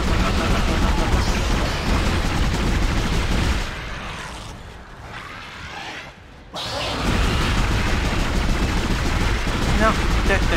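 Pulse rifle firing in Dead Space, with a loud, continuous automatic barrage that briefly thins and goes quiet, then resumes at full intensity.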